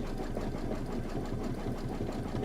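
A sewing machine stitching a table topper design, running with a steady, even mechanical rhythm of needle strokes and a low motor hum throughout, fairly close.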